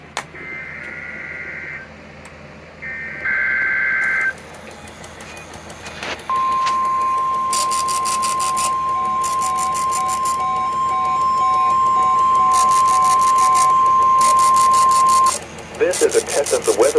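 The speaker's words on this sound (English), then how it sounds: "This is a test of the Weather Service weather radio warning alarm for the WNG 698 listening area of north central Ohio" An NOAA weather radio warning alarm test for north central Ohio gives a long steady high tone lasting several seconds, preceded by short data bursts and broken by chirping tones, with a broadcast voice.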